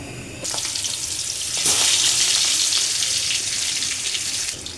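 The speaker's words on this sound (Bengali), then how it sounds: "তেলটা গরম হয়ে আসলেই আমি পাঙ্গাস মাছগুলো ভেজে নেব।" Pangas fish pieces frying in hot oil: a steady broadband sizzle that swells louder after the first moments and holds close and continuous to the end.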